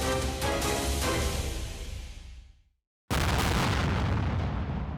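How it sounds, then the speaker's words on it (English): News footage of a full-scale war with artillery fire and aerial bombardment, a loud sustained roar of blasts that fades to silence, then abruptly resumes at full strength. "This is artillery fire and aerial bombardment."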